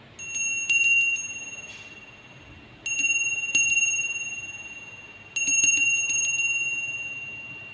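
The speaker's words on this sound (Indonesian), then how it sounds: "Kita akan mulai ditandai lonceng berbunyi." A bell marks the start of a session, ringing three separate times, each clear metallic strike ringing out and fading before the next, with no talk over it.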